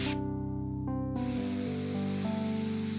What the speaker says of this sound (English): I'm spraying it on the fins.